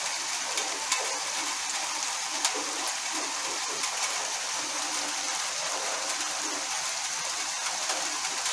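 Light rain falls steadily outdoors in a quiet yard, a soft continuous hiss with scattered faint drips and distant birds, no voices.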